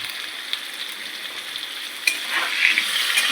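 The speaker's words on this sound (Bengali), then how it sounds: "দিয়ে আলুটা ভেজে নেবো আমরা" Potatoes frying in hot oil for a Bengali home-style mutton curry, a steady crackling sizzle that swells louder toward the end, with a few sharp stirring knocks from the pan.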